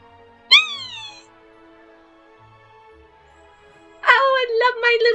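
Cat meowing in the video game Harry Potter: Hogwarts Mystery, one clear meow followed a few seconds later by a run of several quick meows, crisp and close over quiet background music.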